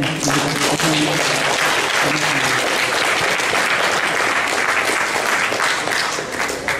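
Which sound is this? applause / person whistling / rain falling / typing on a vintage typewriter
applause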